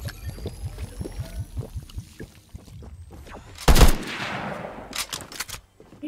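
Gunfire in the shooter game Fortnite, a rapid run of faint automatic shots followed by a louder burst of blasts and scattered shots, with a splashing, pouring-like noise mixed in.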